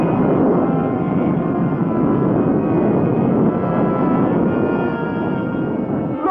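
A 1962 animated cartoon spaceship blasts off with a loud, steady roaring rumble that holds evenly and close throughout, with no voices.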